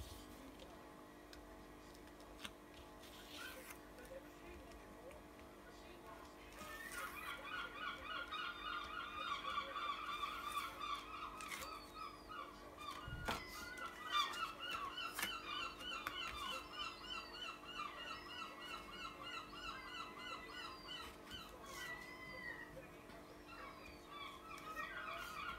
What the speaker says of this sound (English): Oh, and the seagulls are awake too.